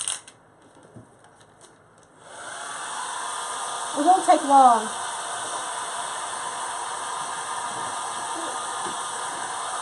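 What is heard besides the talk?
hair dryer blowing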